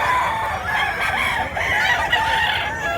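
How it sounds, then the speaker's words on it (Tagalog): A rooster crows loudly and close by, a drawn-out cock-a-doodle-doo with some clucking around it. "Wapong manok."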